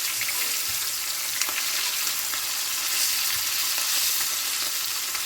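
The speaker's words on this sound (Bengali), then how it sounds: "হালকাভাবে ইলিশ মাছটা আমি ভেজে নিচ্ছি।" Hilsa fish fry lightly in hot oil, giving a steady, even sizzle with faint crackles throughout and no talking.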